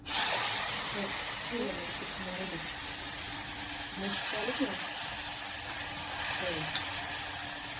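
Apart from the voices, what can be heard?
tempering sizzling in hot oil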